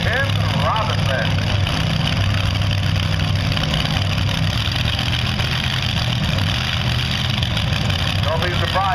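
A pulling tractor powered by three supercharged Chevrolet engines drones loudly and steadily throughout, its low engine roar constant under an announcer's voice at a tractor pulling event.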